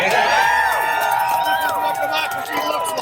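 A large protest crowd in Torrington, Connecticut cheers, whoops and shouts continuously, a dense roar of many voices with shrill individual yells rising over it.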